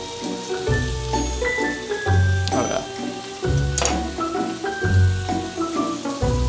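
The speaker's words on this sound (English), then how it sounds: "we're going to cook it on lower the heat while the butter melts" Butter for a steak sizzles softly in a pan over low heat, a quiet crackling patter broken by intermittent low thumps and clinks of handling nearby.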